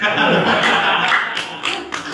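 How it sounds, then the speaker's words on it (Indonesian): An audience at an informal talk about Banyumas history claps together, a dense, steady patter that stays loud for about two seconds and thins slightly toward the end, with some laughter mixed in. "Tepuk tangan untuk Banyumas lah"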